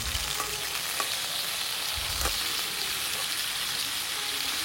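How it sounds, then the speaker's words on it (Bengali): Salted potatoes frying in a pan give a steady, close sizzle throughout, with a few soft clicks of stirring or shifting pieces and no voices. "লবণ দিয়ে মেখে নিয়েছি আলুগুলো ভাজার জন্য। এটাকে কিছুক্ষণ আমি ভেজে নেব।"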